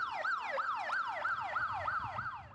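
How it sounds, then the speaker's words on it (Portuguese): An ambulance siren sounds loud and close in a rapid, repeating rising-and-falling yelp, each sweep lasting under half a second, continuous throughout with no talking. "O som emitido pelas ambulâncias, viaturas, policiais e bombeiros é um sinal de alerta para os motoristas"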